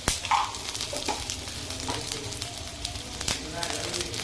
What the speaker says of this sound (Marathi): तेल टाकल्यानंतर थोडी जिरे टाकायची।